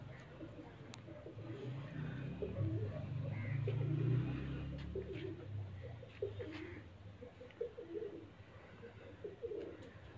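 Soft, low pigeon cooing repeats steadily from a keeper's pigeon loft in Sheikhupura, fairly faint with light outdoor background noise and only distant hints of voices.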